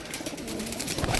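Pigeons coo at a pigeon-flying contest in Sarai Alamgir, Gujrat, a short low throaty burble half buried under loud outdoor noise and rustling.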